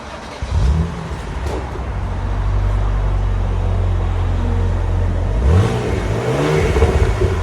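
A 2014 BMW Z4 with its 3.0L inline-six and stock exhaust revs up repeatedly, rising and falling sweeps over a steady low idle rumble, loud and close, with no talking.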